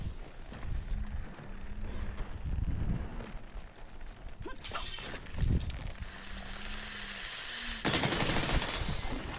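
Dragon Piercer bowgun firing in Monster Hunter World during a hunt against Nergigante, heavy blasts and sharp impacts bursting out among roaring and rumbling battle noise, loud and close.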